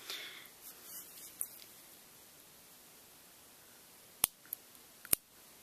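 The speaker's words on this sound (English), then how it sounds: "just start removing, cutting away the threads on the inside" Scissors snip through fabric threads on the inside of a tallit, a few sharp, brief cuts late on after quiet rustling, close and fairly faint.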